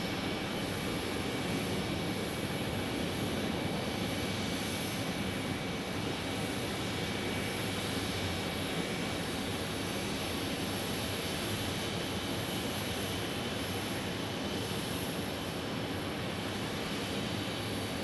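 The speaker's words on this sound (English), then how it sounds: "we got our DFW arrival on an A321" Airbus A321 jet arriving at Phoenix Sky Harbor airport, a steady distant engine roar with a faint high whine that holds evenly throughout with no talk.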